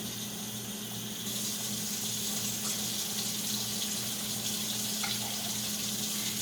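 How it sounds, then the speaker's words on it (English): Water runs steadily from a kitchen tap into a pot, a continuous hissing rush with a faint low hum beneath, no voices. "put the water in there."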